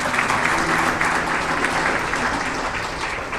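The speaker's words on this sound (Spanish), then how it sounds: "Dale una ofrenda de palmas al Señor Jesús" A church congregation gives a steady round of applause at the close of a worship prayer, a dense, even clapping that carries on for the whole stretch without voices.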